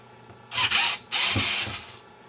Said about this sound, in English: That's where the cordless screwdriver comes in real handy. We're going to take all these screws out